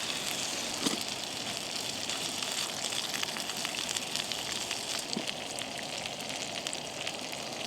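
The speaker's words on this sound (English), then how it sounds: "So the water's nearly boiled" Water heats on a camping stove outdoors at Codale Tarn, giving a steady, hissing roar throughout with faint crackles and occasional small pops, near and continuous.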